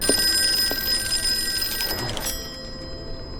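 A telephone rings in Call of Cthulhu, set in the 1920s: a bright, steady electric bell trill that sounds loud and close, then stops abruptly, leaving a faint room hum with no voices.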